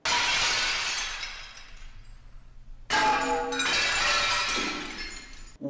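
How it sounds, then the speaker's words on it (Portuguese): Glass plates smash inside a recording studio in two loud bursts, each a sharp shatter trailing into ringing, tinkling shards, with a brief near-silent gap between them. "O Damiano Cotzella levou placas de vidro para dentro do estúdio. Para quebrar."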